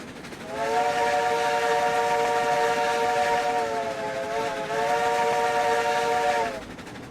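Steam locomotive whistle in the Railroads Online train game, one long sustained chord-like blast lasting several seconds with a slight dip midway, loud and close over a low rumbling background.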